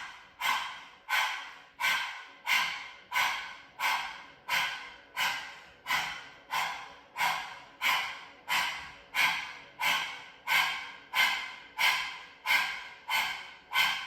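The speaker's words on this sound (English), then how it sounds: "It's a chest breath." Sharp, rapid chest breaths are taken through an open mouth, each a forceful inhale and exhale, repeated about every 0.6 seconds in an even, steady rhythm, close and alone.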